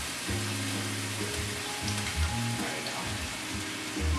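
Meat frying in olive oil in a pan for Philly cheese steak, a steady close sizzle and crackle running throughout with a low hum underneath.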